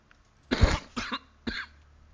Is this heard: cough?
yes